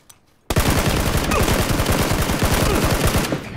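Gunfire in PUBG: after a brief near-silent start, a loud, continuous burst of rapid automatic fire runs to the end, close and dense.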